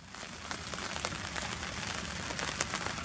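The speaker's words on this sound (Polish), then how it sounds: "Siedzimy sobie w namiocie, pada." Rain falls steadily on a tent during a carp-fishing stay, a dense close patter with scattered sharper drop hits over a continuous hiss and no talking.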